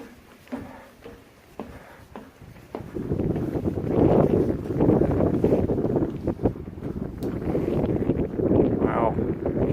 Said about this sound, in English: That wind is ripping through there